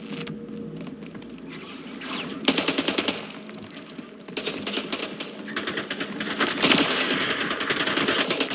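Rapid video game gunfire in a gun game mode: bursts of fast automatic shots and sharp single reports, loud and close, coming in clusters with short gaps between them.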